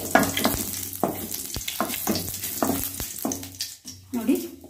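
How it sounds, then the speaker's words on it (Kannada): Mustard seeds and curry leaves crackle and sizzle in a spoonful of hot oil for a radish sambar tempering, with sharp popping bursts over a steady frying hiss, close and moderately loud. "1 ಸ್ಪೂನಷ್ಟು ಎಣ್ಣೆ ಹಾಕ್ಕೊಂಡಿದ್ದೀನಿ, ಸ್ವಲ್ಪ ಸಾಸಿವೆ ಹಾಕ್ತಾ ಇದ್ದೀನಿ, ಇದಕ್ಕೆ ಸ್ವಲ್ಪ ಕರಿಬೇವಿನ ಸೊಪ್ಪು ಹಾಕ್ಕೊಳ್ತಾ ಇದ್ದೀನಿ"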